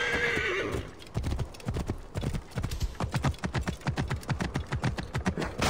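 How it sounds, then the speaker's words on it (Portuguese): Horse hooves clip-clop in a steady, close rhythm while a horse whinnies near the start, from the Assassin's Creed Origins video game; the hoofbeats carry on loudly and evenly throughout. "Nossa, cavalo."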